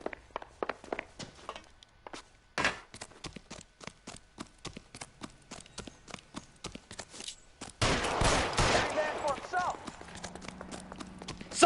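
Gunshots in the video game L.A. Noire, a string of sharp, evenly spaced cracks followed by a denser, louder flurry, with voices talking over parts of it.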